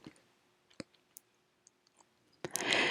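A mouse click on a Save button in teacher attendance software, a single sharp click at close range, surrounded by a few faint scattered clicks and then a burst of broadband noise at the end.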